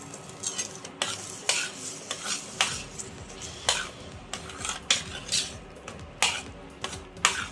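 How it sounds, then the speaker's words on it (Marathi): Mashed vegetables for pav bhaji are sautéed in a pan, with rhythmic metal clanks and scrapes from the spatula over a low sizzle, repeating roughly every half second. "यात आपण आता ह्या स्मॅश केलेल्या सगळ्या भाज्या घालून घेऊ आणि छान परतवून घेऊ"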